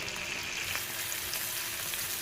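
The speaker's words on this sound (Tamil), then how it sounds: "வெண்டைக்காவை போட்டு பொரித்து எடுத்துக்கலாம்" Okra sizzles and crackles steadily in hot oil, a dense, close frying hiss with no pauses and no voices.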